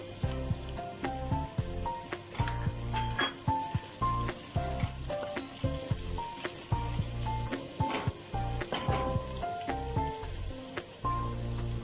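Cauliflower with green pepper fries in a pan, giving a steady close sizzle with frequent crackles and occasional stirring clinks throughout.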